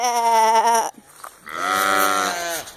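Hungry sheep in a flock bleat loudly nearby, two drawn-out wavering calls separated by a short gap, with no talking over them.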